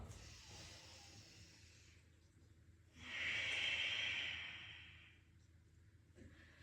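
A long, soft exhale during a yoga hip-opening and psoas stretch, a breathy hiss rising and fading over about two seconds in a quiet room, close to the microphone.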